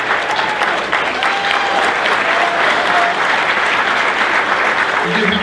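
A banquet hall crowd at a wrestling hall of fame honors dinner applauds in a loud, sustained wash of clapping, with a few voices calling out above it.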